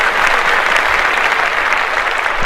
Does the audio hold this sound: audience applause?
yes